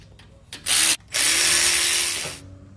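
A power tool tightens 14 mm bolts on a Ford F-150 hub assembly in two close, loud bursts: a short whir, a brief pause, then a longer run that winds down. No one talks.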